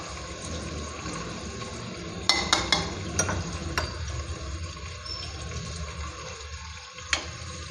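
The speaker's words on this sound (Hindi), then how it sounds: "यहाँ हमारी फ़िश हल्की सी फ्राई हो रही है" Fish lightly frying in a pan for a curry, a steady sizzle with a few sharp clinks of a utensil in the middle, fairly close and with no talking.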